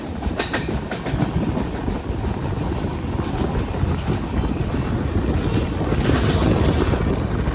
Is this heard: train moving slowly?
yes